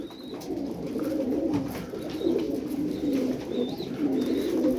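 Several web-footed Iraqi tumbler pigeons coo in low, rolling, overlapping phrases close by, with a few faint higher chirps in the background.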